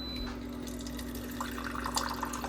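A Hydrofast C100 countertop reverse-osmosis water filter dispensing water, a soft continuous pouring trickle heard close up with no talking.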